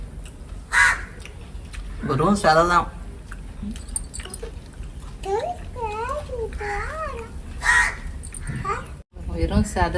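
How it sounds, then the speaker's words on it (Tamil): Crows caw overhead outdoors at a Sunday meal of whole fried fish, several harsh calls scattered among people talking and a voice nearby. "மேல காக்கா இருக்கான்"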